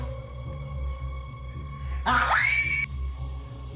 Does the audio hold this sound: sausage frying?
no